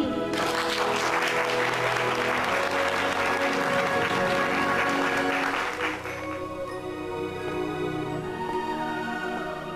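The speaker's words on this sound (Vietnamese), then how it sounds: "Bây giờ chúng ta hãy dành một tràng pháo tay nhiệt liệt để mời ông Tưởng Sơn bước ra" Enthusiastic crowd applause erupts at a lavish birthday party, loud and dense for about six seconds, then thins out as music continues underneath.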